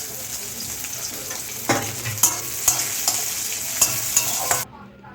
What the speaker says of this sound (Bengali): প্রথমে এই কুচো কুচো পেঁয়াজগুলো দিয়ে দিচ্ছি তেলের মধ্যে।